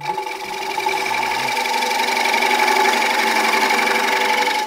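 Bowl gouge cutting into wood on a woodturning lathe, a steady continuous whirring hum with a bright tonal ring from the spinning blank, loud and close, running evenly throughout.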